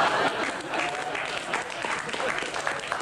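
A studio audience at a British radio comedy show claps steadily, a dense, close wash of hands filling the whole stretch without pause.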